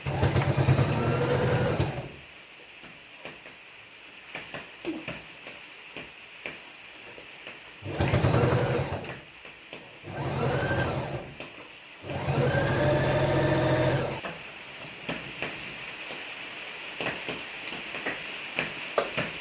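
A sewing machine stitches a neck design in short bursts of rapid whirring, with quiet pauses between runs and faint ticking handling sounds.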